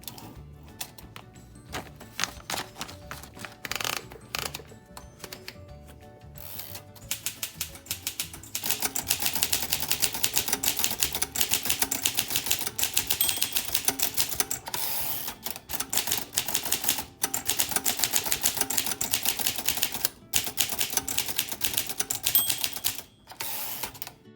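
An Underwood Universal typewriter is typed on steadily, giving dense rapid key strikes up close and loud, with brief pauses and carriage sounds between bursts.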